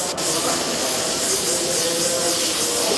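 An airbrush sprays magenta paint in a steady, continuous hiss that runs unbroken for a few seconds, close and fairly loud, with no talking.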